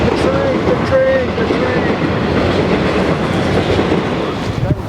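A passing train rumbles loud and close with a steady clattering roar of rail cars, heard from the street on a heritage walk in Cremorne, Victoria, with faint squeal tones and a nearby voice over it.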